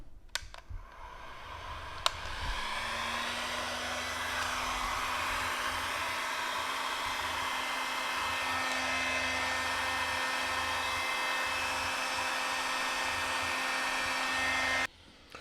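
A handheld heat gun starts with a click and runs as a steady, loud whirring blow while softening protective film over the bumps of a car headlight, continuing evenly without talk until it switches off.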